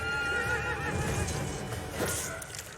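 A horse in the film 300 lets out a loud, drawn-out whinny with a wavering pitch, heard alone over a dense, continuous background.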